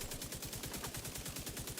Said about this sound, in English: The explosion effects are great.